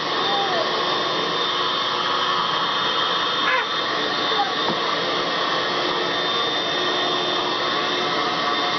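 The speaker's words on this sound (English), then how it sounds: "He's actually vacuuming." A vacuum cleaner pushed by a small boy hums with a steady, unbroken motor whine and hiss throughout, with faint voices and a few soft bumps beneath the drone.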